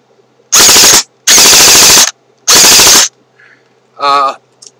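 Airsoft JG gun dry fired, giving three loud, close bursts of rapid mechanical cycling, each about half a second to a second long, then a short faint click and a brief rattling buzz.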